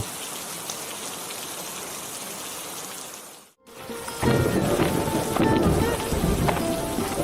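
Steady rain hisses, falling still briefly before returning heavier and louder on a surface, with a dull low rumble beneath.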